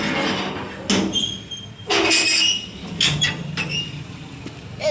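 Roof door of a house opening, with a few separate creaks and scraping bursts spaced about a second apart, close and moderately loud.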